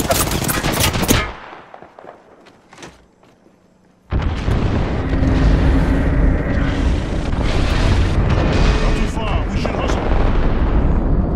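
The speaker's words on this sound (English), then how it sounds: "I'm opening the skies. Airstrike." Airstrike explosions in Apex Legends arrive as a burst of rapid gunfire that drops into a near-silent lull, then a massive detonation hits and a sustained barrage of booms and rattling blasts roars on loudly to the end.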